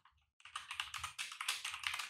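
Computer keyboard typing at an office desk, a quick, continuous run of close, crisp key clicks following a brief pause, with no voices.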